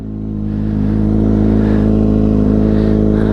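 A 2021 Kawasaki Ninja ZX6R KRT Edition motorcycle idling up close on a cold day, a loud, steady engine rumble with a firm low hum that builds slightly at the start and then holds even, with no talking.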